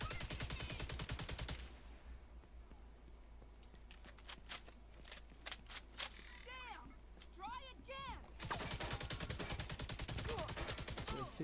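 Video-game gunfire aimed at the player: dense rapid bursts of shots at the start and end, with sparser cracks and other game effects in between, while someone talks over it.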